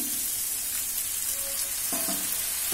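Water splashed into a hot pan of capsicum over medium gas produces a close, continuous sizzling hiss with faint bubbling and a spoon scraping near the end.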